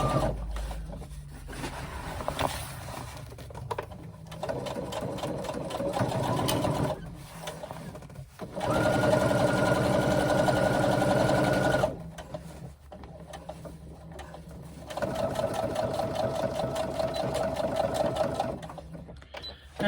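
A sewing machine runs close by in long, steady bursts, top stitching the base of a swim bag's lining, with its rapid mechanical chatter broken by brief pauses between runs.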